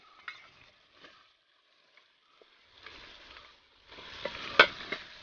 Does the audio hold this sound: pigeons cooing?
no